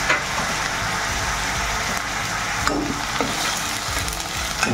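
Ginger paste and green chilli paste fry and get stirred in a pan for a Bengali raw banana kofta curry, making a steady, close sizzle with scraping stir strokes. No one speaks.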